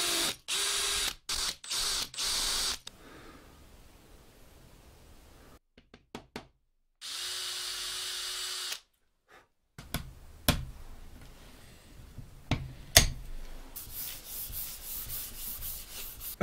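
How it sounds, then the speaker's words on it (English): A drill boring holes in a guitar neck, with several short whirring bursts, a longer steady run and scattered knocks and scrapes in a quiet workshop. "Okay, let's get those drilled."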